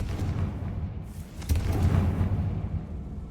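The Confringo explosive spell in Hogwarts Legacy bursts with a deep booming blast, a short rumble swelling midway and fading out, heard alone without talk.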